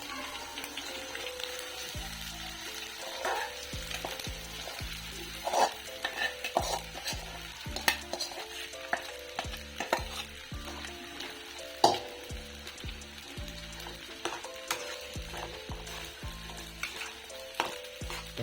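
A sabudana khichdi mixture fries and sizzles in oil in a pan. A utensil stirs it steadily, scraping and tapping against the pan close by, over a continuous low sizzle.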